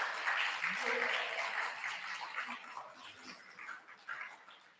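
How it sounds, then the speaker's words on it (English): An audience applauds panelists at a senior thesis event, a burst of clapping that is loudest at the start and then thins out gradually over several seconds. "Let's please give a round of applause for our panelists."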